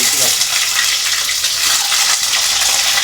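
Eggs frying in about two and a half spoons of hot oil in a bowl on a stove make a loud, steady, hissing sizzle that continues without pause.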